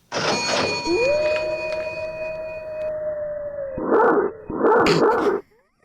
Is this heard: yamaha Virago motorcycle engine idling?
no